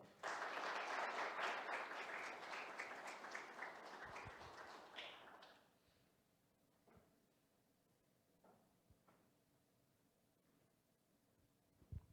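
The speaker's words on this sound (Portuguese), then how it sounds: "É com grande honra que convidamos, com uma salva de palmas, Roberto Monteiro para o palco." Audience applause welcomes a speaker to the stage at a private security talk on artificial intelligence, a dense burst of clapping for about five seconds that fades out, leaving quiet room noise and a few faint taps.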